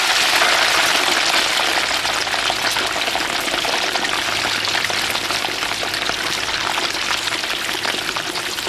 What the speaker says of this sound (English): lowers the boned and filleted fish into very hot palm oil